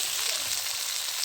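Potatoes frying in a pan for a fish curry give a steady, close sizzling hiss that stays even throughout, with no voices.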